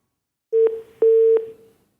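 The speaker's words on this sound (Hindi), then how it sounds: "आई थिंक लाइन हमारी ड्रॉप हो चुकी है" A telephone line tone sounds alone after a dropped caller on a phone-in TV health show: two clear steady beeps, the second one longer, each crossed by small clicks.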